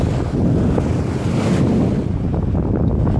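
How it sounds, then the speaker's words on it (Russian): Large sea swell rolls against a ship under way on an otherwise calm sea, with steady, loud wind buffeting the microphone; a continuous broadband roar with no voices. "Между делом вам покажу, насколько большие волны."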